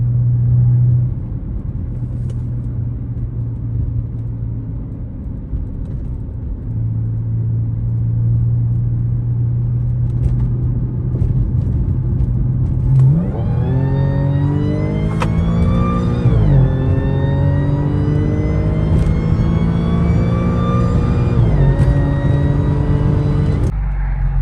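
A supercharged Audi S4 engine with a Jackal Motorsports tune rumbles steadily, then accelerates hard with a rising supercharger whine that climbs in pitch through several gear changes.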